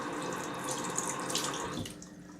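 A small stream of water is poured onto a tiny compressed tea time napkin, making a close, soft trickling hiss that stops abruptly near the end and leaves near quiet.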